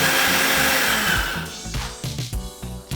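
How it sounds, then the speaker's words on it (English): A blender runs at full speed on soaked soya beans and water, a steady whirring roar that then bogs down into choppy, uneven grinding pulses, close up. "blending it at full speed for about a minute or more until it is absolutely smooth and fine"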